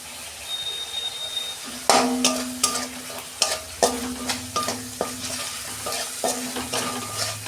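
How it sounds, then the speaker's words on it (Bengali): Kasuri methi dropped into hot oil for a vegetarian papaya and dal curry brings a soft sizzle, with sharp rhythmic spatula scrapes and knocks against the pan repeating every half second or so, close and loud. "তেলের মধ্যে আমি কাসুরি মেথি দিচ্ছি অল্প"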